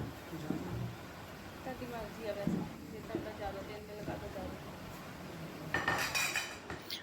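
Utensil scraping and clinking in a pan as baingan bharta is mixed with its tempering of onion and tomato, soft metallic stirring under ongoing talk, ending in a brighter clatter.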